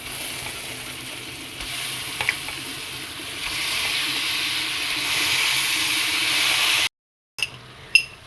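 Chicken meat hitting a pan of fried chopped spice mix for a chicken curry gives a loud, steady sizzle with a few faint stirring clicks. It cuts to silence near the end, then a couple of brief clatters follow.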